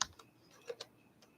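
A few faint, scattered key taps from a backlit computer keyboard in a quiet room: about four or five soft clicks spaced irregularly over a moment.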